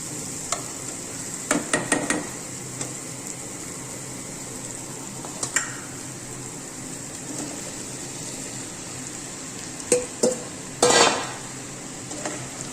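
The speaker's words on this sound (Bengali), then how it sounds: "এই মশলাটাকে একটু ভাজা ভাজা করে নিয়ে" A soft, steady sizzle of spice paste frying in a pan for a cauliflower and potato curry, with intermittent scrapes and clinks of a spoon stirring against the metal.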